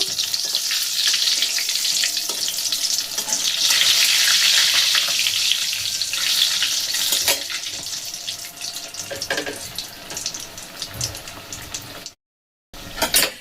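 Katla fish cutlets frying in hot oil in a pan, a dense steady sizzle and crackle that swells loud early, then eases and breaks off briefly near the end.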